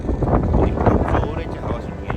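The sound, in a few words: strong cold wind on a hill station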